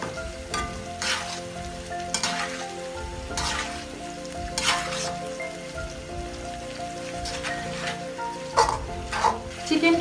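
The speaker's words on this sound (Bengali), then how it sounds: "চিকেনটা ব্রাউন হওয়া পর্যন্ত আমরা অপেক্ষা করব।" Chicken fries in a pan until browned, a steady crackling sizzle with bursts of spattering and occasional utensil stirs, close, with faint voices underneath.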